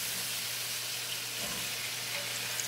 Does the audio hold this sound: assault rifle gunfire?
no